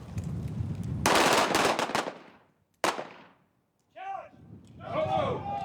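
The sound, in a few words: gunshots fired on a shooting range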